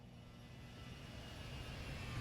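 Gulfstream jet engines spooling up for takeoff in a flight simulator, a steady broad roar that builds gradually and holds loud throughout, with no talk over it.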